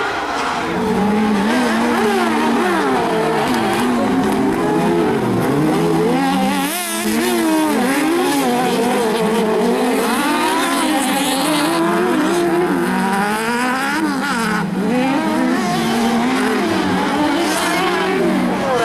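Fiat 500 stock cars racing on a cross track at Conselve, with loud, continuous engine roar and revving and occasional tire squeal, close and dense throughout.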